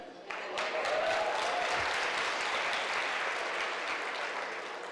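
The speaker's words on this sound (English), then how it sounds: "We're gonna have to pick up that applause." Audience applause fills a luncheon room, a steady wash of many hands clapping that starts abruptly and holds evenly for several seconds before easing slightly.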